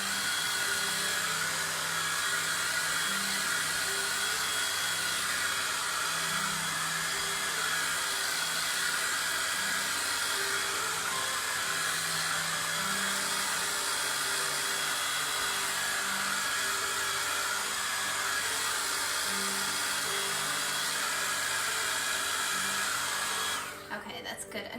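A handheld hair dryer drying paint on a holiday craft design, blowing as a loud, steady whine and rush of air that runs unbroken for the whole stretch and cuts off abruptly at the very end.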